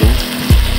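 Sautéed mixed vegetables, ginisang gulay, crackling loudly in a hot pan, a brief close sizzle with two quick scraping stirs.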